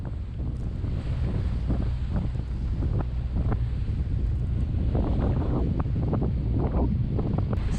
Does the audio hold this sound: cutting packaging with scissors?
no